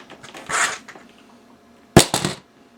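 An Airsoft SportsPro spring grenade goes off, a single sharp loud snap followed by a quick scatter of rattling pops, set after a softer rustle earlier.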